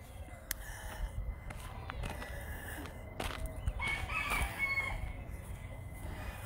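A rooster crows on a farm amid busy fowl clucking and general barnyard noise, the call rising midway through a steady, moderately loud backdrop.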